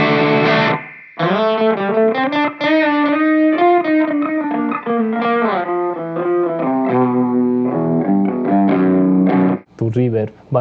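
An eight-string multiscale Krul guitar plays a flowing melodic run of distorted, sustained notes through a cheap reverb effect, loud and close, with a brief pause early on.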